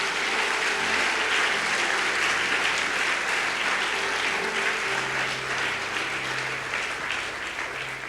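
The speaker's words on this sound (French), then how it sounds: "Encourage-moi en acclamant le Seigneur." A church congregation applauds steadily for about eight seconds, a dense, loud wash of clapping that eases slightly toward the end, with no speech over it.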